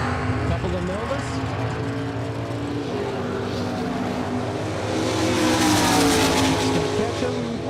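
Chevrolet Nova drag race cars accelerating down the strip at a drag racing event, engine roar rising and swelling toward the end, heard under an announcer's commentary.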